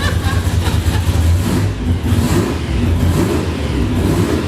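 Loud, close car engine idling at about 1200 RPM on a dyno, running steadily with a low throbbing rumble and slight fluctuations in revs, continuous throughout.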